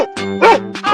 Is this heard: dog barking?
yes